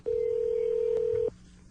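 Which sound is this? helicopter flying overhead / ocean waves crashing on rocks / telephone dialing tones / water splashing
telephone dialing tones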